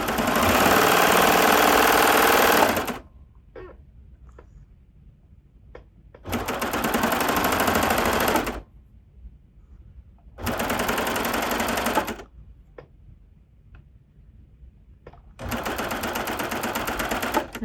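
Sewing machine running a back stitch on upcycled clothing, four loud whirring bursts of a few seconds each separated by quiet pauses with faint handling clicks, close up.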